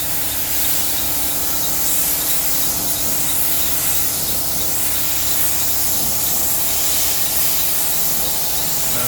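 A spray gun hisses loudly and continuously as paint is sprayed during the restoration of a 1938 SS Jaguar 3½ Drophead, a steady close-up rush of air with no talk.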